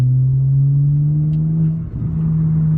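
A 2007 BMW 335i dropping into third gear at about 30 mph and pulling hard from around 2,000 RPM, heard as a steady, loud low engine drone from inside the cabin with a slight dip and recovery.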